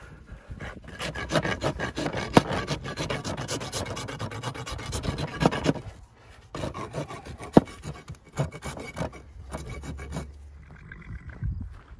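A horse's hoof being trimmed and rasped in a corral, with repeated rough scraping strokes in bursts, separated by short pauses.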